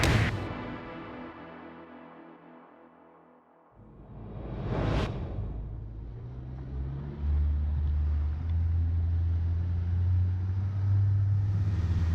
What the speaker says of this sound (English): On Salpa Soleil 20 we have a 100 horsepower Yamaha engine